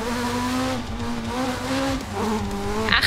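A rally car's engine drones and wavers as it spins out on a stage in the video game DiRT Rally 2.0, with tires scrubbing and a brief crunchy skid at the end.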